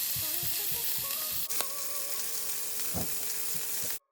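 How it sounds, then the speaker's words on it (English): Chicken pan-frying in a hot cast iron skillet gives a steady, close sizzle that holds for about four seconds, with a few soft clinks and stirring bumps before it cuts off abruptly. "Listen to that sizzle."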